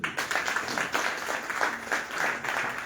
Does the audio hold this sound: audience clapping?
yes